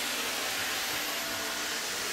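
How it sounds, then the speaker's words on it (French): Floor-washing machine running in a shop aisle, a steady broadband whoosh and hum that stays loud and unbroken throughout, with no voices over it. "Désolée pour le bruit, c'est la machine qui lave le sol."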